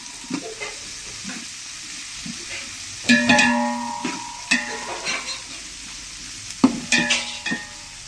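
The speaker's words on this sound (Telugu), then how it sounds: "ఆనియన్ కూడా ఆనియన్ కూడా వేసి వేయించాలి" Sliced onions and green chillies sizzle in hot oil in a pan, with a steady frying hiss and louder bursts of stirring and scraping near the end.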